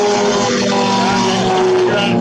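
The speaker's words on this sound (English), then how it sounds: "what we hear is a lot of cars and a little bit of you" Race cars roar on track during a ChampCar endurance race at Daytona Beach, a loud, sustained engine drone with steady tones and passing swells, a voice faintly mixed underneath.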